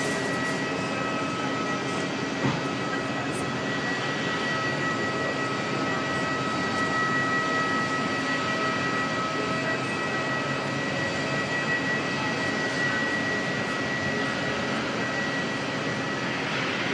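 Air New Zealand jet NZ127 departs Auckland Airport for Melbourne, a steady distant engine rumble with a faint high whine running underneath throughout.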